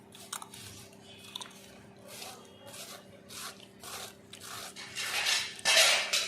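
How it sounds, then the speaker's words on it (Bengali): A knife thinly shredding a large cabbage, a series of soft, irregular cutting bursts against a faint background hum, growing louder and denser toward the end. "এই যে এইভাবে আমি কুচিয়ে নেব, সব পাতলা পাতলা করে কুচিয়ে নিচ্ছি আগে।"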